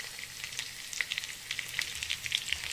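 Turmeric sizzling in hot frying oil for egg bhurji, a steady close crackle with scattered sharper pops throughout, no voices.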